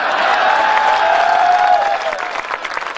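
A crowd at a Hindi comedy poetry gathering (hasya kavi sammelan) claps loudly and steadily for about two seconds, then the applause thins out and trails off.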